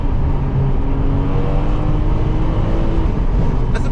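A front-engined Ferrari 599 GTB runs steadily with a low, even rumble and a slight rising rev, heard from inside or close by, continuous throughout.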